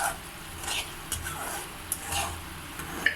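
Semolina slowly roasts in a pan for halwa, stirred with soft scraping strokes and occasional light clicks of a spoon against the pan over a faint sizzle, with a voice speaking quietly underneath.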